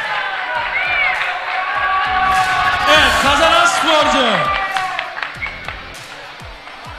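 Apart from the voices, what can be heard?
audience applauding the two fighters after the match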